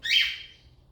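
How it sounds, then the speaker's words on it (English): A pet bird lets out a single short, bright chirp, close and fairly loud, that fades quickly into quiet. "and my bird is agreeing."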